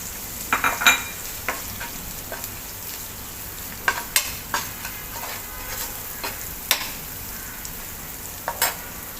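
Dry ground spices frying in oil with ginger and garlic for Punjabi rajma masala: a constant close sizzle broken by scattered scrapes and taps of a stirring spoon, no talk.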